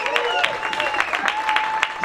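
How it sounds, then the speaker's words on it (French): Audience applause at a celebration marking a fiftieth anniversary, steady clapping with crowd voices and some shouting underneath, moderately loud and continuous. "Est-ce que nous pouvons applaudir s'il vous plaît, parce que c'est un moment de joie"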